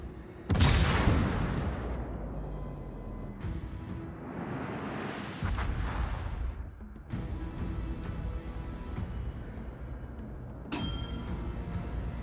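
Warship gunfire in the naval battle game World of Warships: a loud boom opens the clip, followed by sustained rumbling battle noise with further cannon blasts and whooshes, and another sharp shot near the end.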